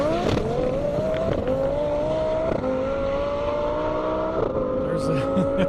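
A Lamborghini Huracan and a Toyota Corolla drag race on a half-mile airport airstrip, steady engine roar with rising revs and gear changes, loud and continuous, with a voice talking over it.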